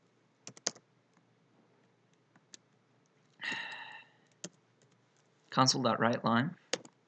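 Sparse clicks and short bursts of computer keyboard typing while writing C# code, quiet and close, with someone speaking briefly in between.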